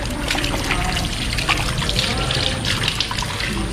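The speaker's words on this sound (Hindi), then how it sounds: "तो हम यहाँ पे अपना मुँह धो लेते हैं।" Water splashes and trickles at a temple washing spot as someone rinses their face, a steady close running flow with a voice talking over it.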